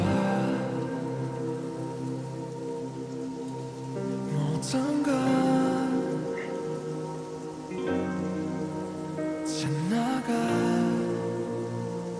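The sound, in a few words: rain sound effect in a song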